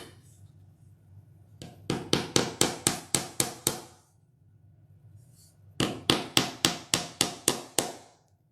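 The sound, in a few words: hammering into wooden sign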